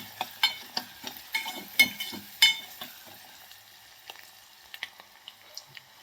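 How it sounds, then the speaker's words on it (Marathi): Chopped onion frying in a pan for a pea and potato curry, giving scattered light crackles and soft sizzling pops that are busier at first and then thin out to occasional ticks. "कांदा आपला भाजत आलेला आहे."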